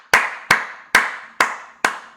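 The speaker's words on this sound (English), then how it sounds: "That's not a slow, sarcastic clap either. That's a legitimate clap." Five single hand claps spaced about half a second apart, each sharp and close with a short decaying tail, heard alone with no talking.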